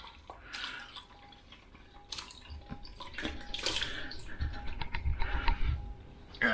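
Braising liquid poured into a dish of braised lamb shoulder for shepherd's pie, a close, growing stream of splashing and dripping that builds toward the end.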